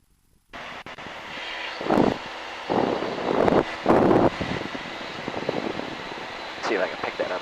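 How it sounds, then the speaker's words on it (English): Steady aircraft engine drone inside a cabin, with loud bursts of nearby talk rising over it now and then. "I'm flying a plane."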